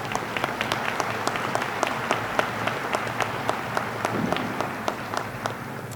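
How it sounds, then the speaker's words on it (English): Commencement audience at a university winter graduation claps steadily for the Board of Trustees, a continuous spread of many hands with sharp individual claps standing out, sustained for several seconds. "Please join me in giving them a round of applause."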